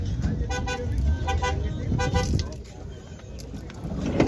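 Horn of a Daewoo Damas minivan at a market in Fergana, sounding a series of short repeated honks close by over background chatter and outdoor noise.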